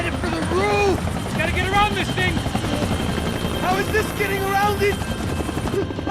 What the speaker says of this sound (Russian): Ну нифига себе, как они на вертолете гоняют.